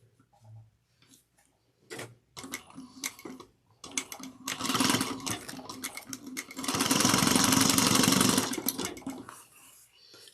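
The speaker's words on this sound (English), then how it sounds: "we're going to sew each one of these sides down at 1/4 of an inch. Back stitch at the beginning and the end." Sewing machine stitching the sides of a box bag at a quarter inch with backstitching, heard as bursts of rhythmic whirring that build into a loud, steady run near the end, with some handling clicks between.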